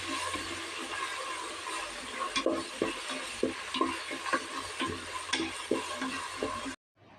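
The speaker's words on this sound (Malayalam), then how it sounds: "നന്നായിട്ട് അതിൻ്റെ ആ പച്ചമണം മാറുന്ന വരെ നമ്മൾ കൈവിടാതെ ഇളക്കി കൊടുക്കാം" Ginger garlic paste fries in a pan for biryani, stirred constantly, giving a continuous sizzle broken by rhythmic scraping strokes before cutting off abruptly.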